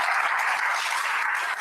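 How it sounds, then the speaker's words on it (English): Audience applause at a conference session on care transition and disclosure for children, a steady wash of clapping held at an even level for under two seconds, with no voices. "Let's give a round of applause."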